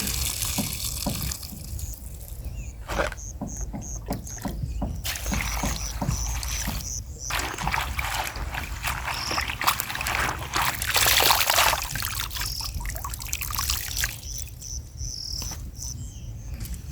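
Water splashing and sloshing in irregular bursts as vegetables are rinsed by hand, with crickets chirping faintly in the background.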